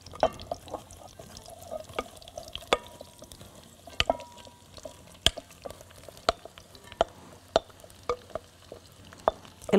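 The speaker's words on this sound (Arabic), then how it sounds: "ناخد الزيت بسم الله. طيب هنحط البصل بسم الله." Onion frying in oil in a cooking pot, a soft steady sizzle punctuated by frequent sharp clacks and scrapes of stirring at an uneven rhythm, close up with no talking.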